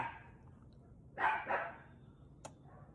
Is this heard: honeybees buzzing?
no